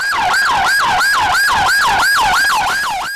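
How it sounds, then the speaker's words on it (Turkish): Ambulance siren at a crash scene where a panel van hit a wall in Edirne, loud and close, wailing in a fast rising-and-falling cycle about three times per second. "Ambulansların biri gitti,"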